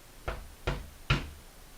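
Three evenly spaced knocks on a palace door, sharp and fairly close, each a quick thud separated by brief quiet, heard alone in a still room.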